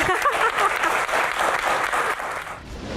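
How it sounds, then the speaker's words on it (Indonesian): A crowd claps for a doctor at an Indonesian medical association Q&A session, a steady, dense wash of applause that stays loud for the whole stretch and eases slightly near the end. "tepuk tangan tuh dokter"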